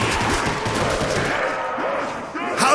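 Fast bursts of gunfire in a zombies shooter game, loud and dense at first and then thinning, with a voice talking over it.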